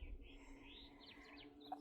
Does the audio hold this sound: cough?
no